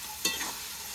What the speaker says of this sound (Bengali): পেঁয়াজটা কত সুন্দর আমি লাল লাল করে ভেজে নিচ্ছি।